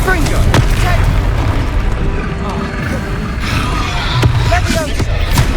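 Confringo fire spell explosions during combat in Hogwarts Legacy: loud, booming blasts with a deep rumble over dense battle noise, with a voice heard in the game.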